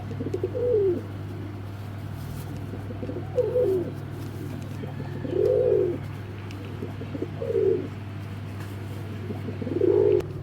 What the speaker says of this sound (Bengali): একজোড়া কালো ঠোঁটের কালদম, ইন্ডিয়ান কালদম, খুব সুন্দর বিগ সাইজের রানিং ডিম বাচ্চা